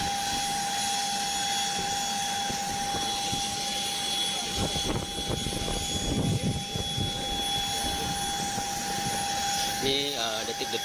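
An airplane engine runs loudly and steadily while a police chief is loaded aboard for a medical transfer flight. A constant roar holds throughout, with a high whine, and there is faint, indistinct voice activity.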